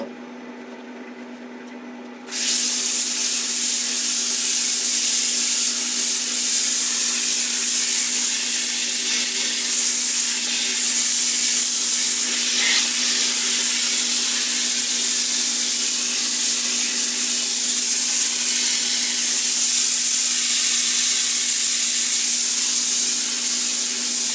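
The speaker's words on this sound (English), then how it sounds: "I've taken that all down and then just with a bit of sandpaper" Sandpaper rubs against a wooden tent pole: a loud, steady, unbroken hissing rasp begins after about two seconds and continues over a constant low motor hum.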